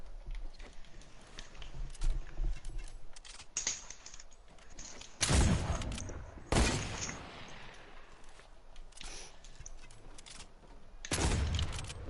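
Gunfire in a video game, scattered bursts and volleys of shots cracking out between quieter stretches, several loud salvos standing out over faint background noise.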